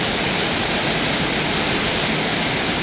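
Heavy rain pours down in a dense, loud, steady hiss that fills the whole stretch without pause, close and enveloping, with no voices over it.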